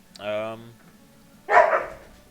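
Dogs in a home setting give a short whining bark followed by a sharper, louder bark about a second later, both close and brief.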